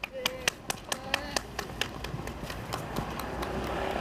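Rally crowd applauding after a speech against the National Security Act, with sharp claps starting sparse and quickly swelling into dense, steady applause that holds loud to the end, a voice audible underneath.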